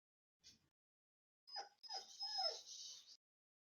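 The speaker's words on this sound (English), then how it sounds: "Dog. Dog indeed." A dog whimpers and yips indoors, one short faint whine followed by a longer run of high-pitched whimpering cries, fairly quiet and alone with no talk.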